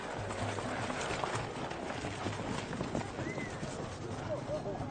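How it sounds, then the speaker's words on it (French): Horses in a timed trotting race beat out a rapid, continuous clip-clop of hooves, moderately loud, under a voice speaking over the action. "L'allure imposée est le trot, même s'ils vont pratiquement aussi vite que s'ils étaient au galop."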